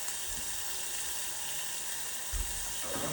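Shrimp sizzle steadily in a very hot cast iron pan, a soft continuous hiss and crackle with a brief clunk and a scraping rustle near the end.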